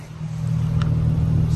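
Idling 2013 Dodge Charger V6 with straight pipes gives a steady deep droning rumble close by, swelling slightly as the throttle builds, with a faint brief tick over the low engine note.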